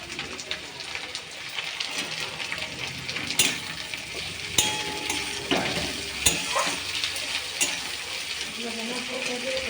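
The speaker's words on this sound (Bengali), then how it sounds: "চলো কাজু কিশমিশটা ভেজে নেওয়া যাক" Cashews and raisins fry in a pan with a steady crackling sizzle, punctuated by a few sharper clinks and pops of stirring, close and moderately loud throughout with no voices.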